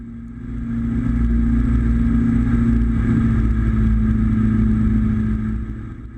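Twin-engine Diamond DA42 Twinstar engines drone steadily from inside the cockpit during the climb after departure, with the power being eased back to 90% in a subtle shift partway through.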